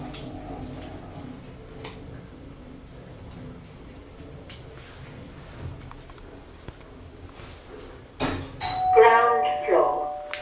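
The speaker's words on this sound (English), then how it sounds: "Has an actual bell." In a 1990s Stannah lift at Southside Shopping Centre, quiet clicks and ticks are heard first. Near the end a real mechanical bell chimes, a close, ringing ding that fades, and someone talks faintly underneath.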